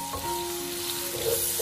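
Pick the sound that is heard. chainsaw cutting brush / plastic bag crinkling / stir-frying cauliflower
stir-frying cauliflower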